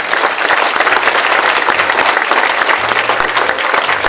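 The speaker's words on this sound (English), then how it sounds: "Can we have a round of applause?" A crowd at a creative writing contest award ceremony applauds steadily, dense clapping from many hands filling the room, loud and continuous without voices.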